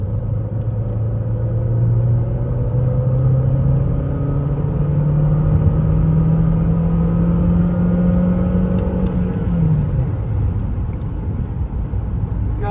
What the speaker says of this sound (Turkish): Bu yolda ufak bir şey gaz açacağım. Bakayım ne kadar hızlanacak.